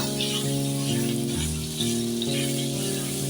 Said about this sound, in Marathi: आता आपण त्यात घालूया आलं लसणाची पेस्ट एक चमचा भरून आलं लसूण घेतलेलं आहे